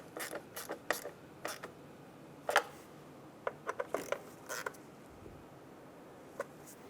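A wrench snugs down alternator bolts on a 2007-2012 Nissan Altima, giving scattered close metallic clicks and short ratcheting bursts with quiet pauses between, no voices.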